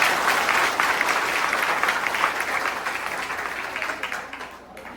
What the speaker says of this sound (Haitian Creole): On nous applaudit aussi.